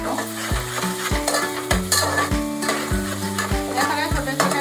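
Onions with salt fry in a pan over high heat, a steady sizzle broken by regular spoon-scraping stirs about every half second, close and clear with no talking.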